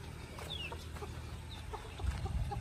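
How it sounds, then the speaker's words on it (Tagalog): Chickens cluck in short, scattered calls at a rural homestead in Sicoco, Piñan, Zamboanga del Norte, moderately close over a steady outdoor background, with a louder low thump toward the end. "Chickens!"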